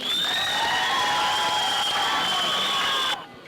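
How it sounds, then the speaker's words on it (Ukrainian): Enthusiastic studio audience applause at a TV dating show, a dense roar of clapping with cheering and whistle-like tones, loud and steady for about three seconds before cutting off abruptly. "Дякуємо, шановні наші глядачі, за чудові бурхливі оплески"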